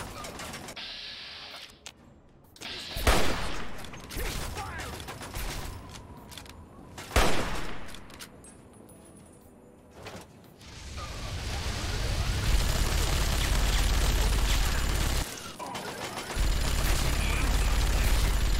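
Gunfire from Fallout 3 combat, with Talon Company mercenaries attacking, comes as scattered bursts and sharp reports. Mechanical clatter runs throughout and the noise grows dense and continuous in the later half.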